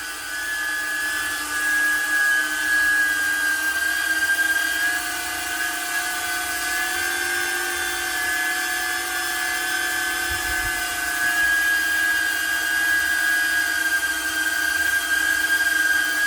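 A small DJI Neo drone fitted with Gemfan 5-blade propellers hovers nearby with a steady high-pitched propeller whine and buzzing harmonics, constant and loud throughout.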